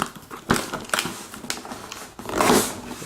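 Packing tape being ripped off a cardboard shipping box holding a MacBook Air: close, crackly tearing and rustling in short bursts, ending in a longer scraping rip.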